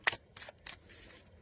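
Tarot cards from The Unfolding Path deck are shuffled by hand in three or four quick, crisp riffling bursts with short pauses between, close and fairly quiet.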